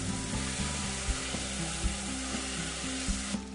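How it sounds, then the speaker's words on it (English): Wine poured into rice with mushrooms for risotto, a steady sizzle under repeated rhythmic stirring scrapes and knocks of the spoon against the pan, close and continuous. "Add 1/4 cup of wine to the rice and stir it up a bit"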